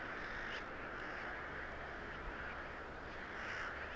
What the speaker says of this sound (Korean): 남은 무리가 모두 몰려들자 떼까마귀들이 날아올라 환상적인 군무를 펼친다.